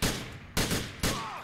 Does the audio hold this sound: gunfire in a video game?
yes